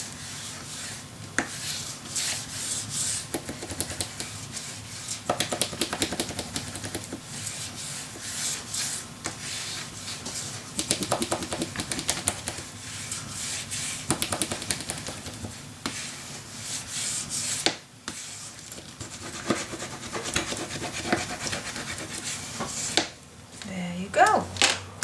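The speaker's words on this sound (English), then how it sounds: "use your bone folder to really make sure your paper is attaching your cover" A bone folder rubs paper firmly onto a mini album cover, giving repeated dry scraping strokes at close range, with some talking over the rubbing.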